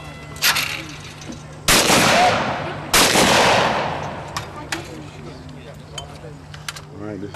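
Shotgun blasts at a 4-H youth shooting competition, an 11-year-old shooting a true pair: two loud, sharp reports about a second apart, each with a long outdoor decay, plus a smaller earlier pop and light talk in the background.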